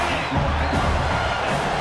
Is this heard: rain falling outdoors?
no